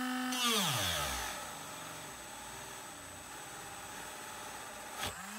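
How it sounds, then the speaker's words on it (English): A Dremel rotary tool motor spins at high pitch, then bogs down sharply as it is pressed into material. It settles into a low, labouring whine with a brief scraping burst near the end. "When I press it down into the material, you can hear that the speed is reduced and the motor is struggling or even stopping."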